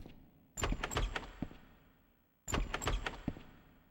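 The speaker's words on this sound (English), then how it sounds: "it gives me the locked sound" A locked door rattles in the PS1 video game Shadow Tower, sounding twice as a clunky metallic thunk-and-rattle burst, each fading out before the next, loud and close with no talk.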